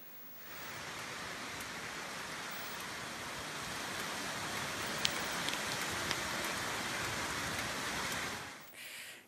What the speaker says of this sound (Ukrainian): Столиця пережила сьогодні потужну літню теплу зливу.